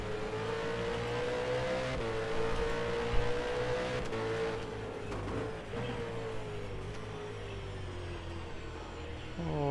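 V8 race cars in a racing game lap a track at Barbagallo at night, engines droning and revving loudly, pitch rising and falling through gear changes as several cars run close together.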